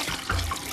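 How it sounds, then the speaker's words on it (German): Water rushing steadily in a short burst, with a brief swell of low, full flow midway, close and fairly loud with no voices. "Es hört sich so schön an, das Rauschen des Wassers."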